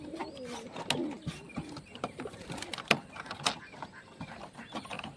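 Pigeons in a loft coo and flutter up close, with scattered wing flaps and rattling of cage mesh.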